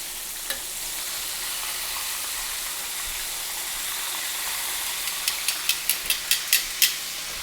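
Chicken wings sizzle and crackle steadily in hot frying oil, a continuous hiss with a run of sharp pops and spatters growing louder near the end.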